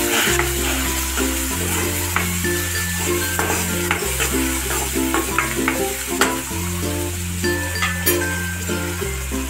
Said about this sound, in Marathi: आपल्याला चांगला आता तेलावर परतून घ्यायचं